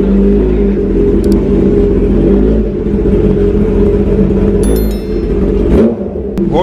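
A Ducati motorcycle engine runs loud and close with a steady deep rumble and slight rises in revs throughout, stopped during a road ride in South Odisha.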